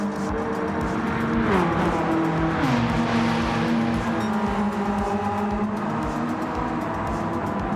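BMW race cars racing in Gran Turismo 7, a DTM 89 Cup event: steady engine drone with rising and falling pitch as gears shift, continuous and moderately loud, with no speech.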